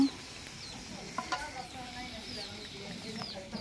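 Thick red mango pickle being stirred in a cooking pot over slow heat, giving soft scraping and faint sizzling, quiet and close, with some chickens clucking in the background.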